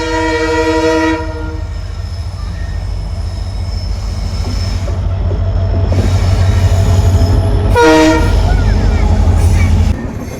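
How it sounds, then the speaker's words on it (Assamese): A train passes close by a level crossing beside a wetland, its loud continuous rumble and wheel noise sustained throughout, with horn blasts at the start and again near the end; a voice is faintly heard. "ইয়াতে ট্ৰেইন আহিছে"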